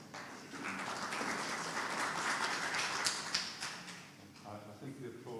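Audience applause breaks out after a ten-minute presentation at a district healthcare research day, a steady wash of many hands clapping that sounds moderately loud and fairly close before fading, with some voices in the background.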